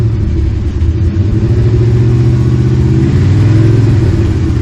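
Loud, close running engine of a truck with about 251,000 miles, a deep steady rumble whose pitch rises and falls through mild revs, with no voices over it.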